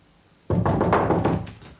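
Several firm knocks land on a door in quick succession, loud and close, with a dull thudding rhythm that trails off after about a second.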